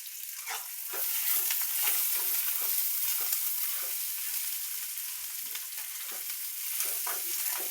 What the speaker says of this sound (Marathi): आपले झटपट पोहे, शेंगदाणे तसंच फ्राय टाकायचं